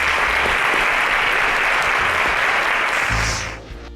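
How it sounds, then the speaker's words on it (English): Loud, dense audience applause fills a studio stage as contestants leave after a competition round, holding steady before tapering off near the end. "A round of applause for them as they exit the stage."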